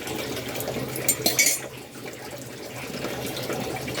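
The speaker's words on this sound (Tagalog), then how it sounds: "Ang lupit ko kaya maghugas, oh." Dishes, pots and cutlery clatter and clink under a steady stream of running tap water at a sink, with a brief burst of louder clanking partway through and continuous rinsing throughout.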